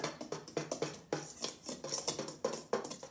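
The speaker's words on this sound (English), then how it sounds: "And I'll whisk all those together." A whisk clatters steadily against a bowl, blending the dry ingredients for a 1980 Betty Crocker banana nut bread in a home kitchen, with rhythmic close scraping and tapping strokes that run alone.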